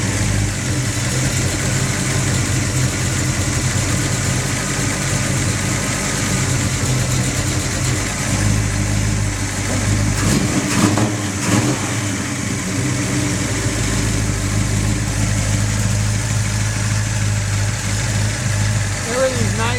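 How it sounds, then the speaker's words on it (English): A 1967 Chevelle SS 396 with a four-speed, electronic ignition and breathers, idling loud and close at the engine bay, a steady rumbling drone with a few slight blips of revving, continuous throughout. "We're going to fire up the car so I'm nice and close to the engine here"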